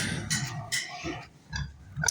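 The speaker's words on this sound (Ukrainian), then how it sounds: "Це в нас тут свиноматочка стоїть." Several short, low grunts from a sow come in uneven bursts, fairly close, with a snuffling, breathy texture between them.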